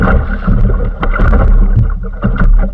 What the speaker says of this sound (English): That was a bigger wave.